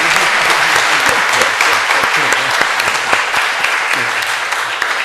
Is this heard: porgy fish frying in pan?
no